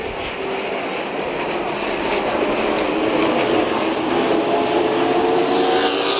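Sportsman race cars thundering around New Smyrna Speedway, a dense, loud, continuous roar of several engines packed together that swells slightly as the field passes, with no clear talk.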